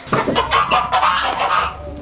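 Several chickens cluck close by in quick, overlapping bursts, a busy barnyard chatter with no talking.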